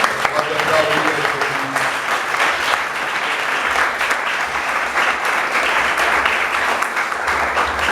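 A church congregation claps for several seconds in a dense, sustained wash of applause that fills the room, with a voice briefly heard over it near the start.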